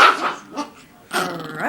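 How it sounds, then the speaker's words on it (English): A dog barks and snarls in two close, loud bursts, with a short growling pause between them and a rising yelp-like tail at the end. "It's Demon Dog."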